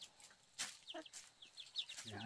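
Chickens cluck in short, faint, scattered bursts on a rural Vietnamese homestead over a brief, quiet stretch.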